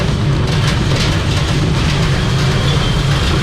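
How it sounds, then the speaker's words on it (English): Small amusement park train at Southport Pleasureland rumbling along its track, a steady, loud, continuous low rattle and drone with a rickety clatter throughout. "You also got a little train out the front there as well."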